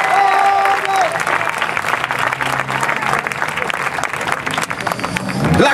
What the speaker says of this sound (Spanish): No se canse de aplaudirle a su Señor.